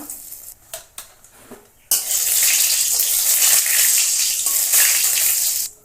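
Cumin seeds, dried red chillies and bay leaves hit hot oil in a kadai with a sudden loud, steady sizzle that holds for several seconds, after a few quiet clinks and taps.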